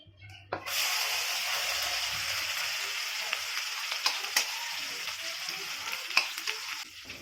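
Soybean paste drops into hot tempered oil and bursts into a strong frying sizzle that holds steadily, dotted with crackles and spatters, after a quiet start.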